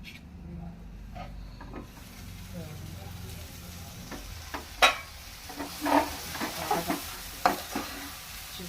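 Okra pieces frying in a pan for garelu pulusu curry, a low steady sizzle with scattered stirring clatters and scrapes growing busier toward the end, close by, no talking.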